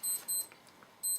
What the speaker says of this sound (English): Sorry, that's just the alarm back there.